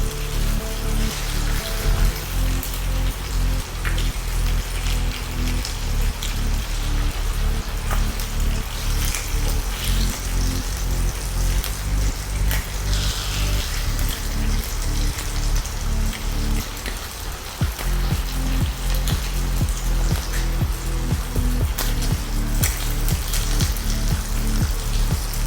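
Bacon cooking in a pan for a longganisa burger, giving a steady loud crackling sizzle that runs unbroken throughout, with dense spattering pops and a short dip partway through.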